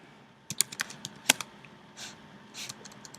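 Keys clatter on a computer keyboard in a quick burst of close, crisp taps, then a pause and a couple of softer presses, alone without speech.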